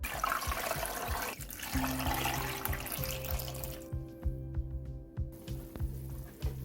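Two liters of water pour into a pot holding pork ribs, whole garlic, ginger and peppercorns for soup. The stream gurgles steadily and close by, its pitch rising as the pot fills.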